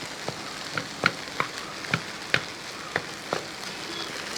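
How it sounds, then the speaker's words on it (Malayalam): A spatula prods and breaks up idli uppumavu in a pan, tapping about ten times in a loose rhythm over a soft, steady sizzle, close and fairly quiet. "ഈ ചട്ടകത്തിന് തന്നെ ഇതേപോലെ ഒന്ന് കുത്തി കുത്തി കൊടുത്താൽ ആ വലിയ കട്ടയായിട്ടുള്ളതൊക്കെ ഒന്ന് പൊടിഞ്ഞ് കിട്ടും"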